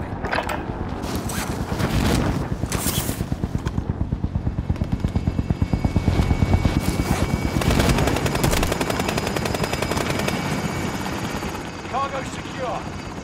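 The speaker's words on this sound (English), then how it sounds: "Helicopter is leaving the AO." Rapid, rhythmic thumping of helicopter rotor blades, loud and close, churning steadily with mechanical whine throughout.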